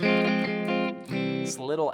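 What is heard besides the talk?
No distinct noise like a dog, phone or traffic.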